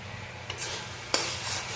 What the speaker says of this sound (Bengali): ঘিটা দিয়ে এবার একটু নেড়ে নেব